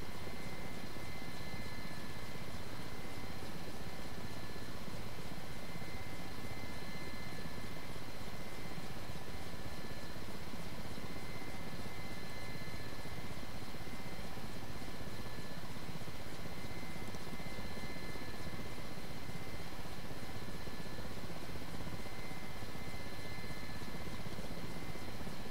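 Steady, loud turbine whine and rotor drone of an Mi-8 helicopter taxiing to the ramp in the DCS flight simulator, unchanging throughout with no voices.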